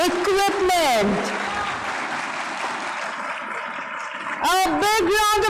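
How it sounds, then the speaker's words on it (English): Audience applause fills a national school science awards ceremony in a large hall, a steady spread-out clapping that runs under a voice announcing at the start and end. "A big round of applause for him, everyone from all sides, please."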